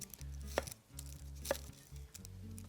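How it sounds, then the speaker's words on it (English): A knife trimming the top and bottom off a shallot on a cutting board, two sharp chops about a second apart with a third softer cut, close and clear over a low hum. "I'll just go ahead and cut the top and bottom off of this shallot"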